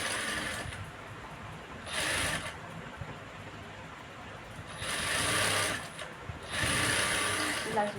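Sewing machine stitching the back piece of a work blouse, running in several short whirring bursts separated by pauses, close and fairly loud.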